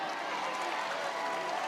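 Softball crowd in Tuscaloosa cheering and applauding, a steady distant wash of claps and voices filling the whole stretch at moderate level.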